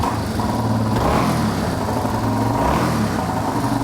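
A Yamaha Warrior 350 quad engine, freshly restarted, runs steadily at close range, a loud, continuous mechanical drone with a low throbbing pulse and no speech.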